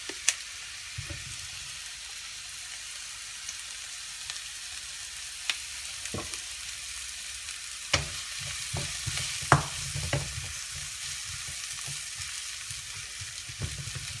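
Onions caramelizing in a frying pan, seasoned with black pepper, sizzle in a steady quiet hiss while a utensil stirs and scrapes, making sporadic sharp clicks and scrapes against the pan.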